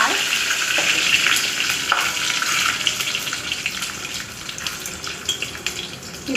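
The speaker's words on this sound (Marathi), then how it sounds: "आणि आमचं शेंगदाणे हे सगळं छान परतून घ्यायचे" Dal, green chillies and peanuts sauté in a pan with cumin, mustard seeds and curry leaves, giving a steady close sizzle and crackle that runs throughout, with occasional stirring scrapes.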